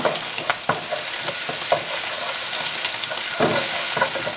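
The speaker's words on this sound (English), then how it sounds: "we're gonna put the egg. And a little stir. We want to cook the egg first." Egg stirred and frying in a pan for Thai basil chicken fried rice, a steady close sizzle broken by scraping stir strokes.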